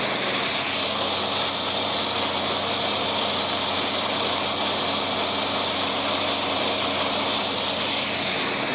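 Discbine mower running steadily in a hayfield, a continuous broadband mechanical roar with a low engine drone underneath, close and loud throughout with no speech; any faint worrying noise is buried in the steady drone.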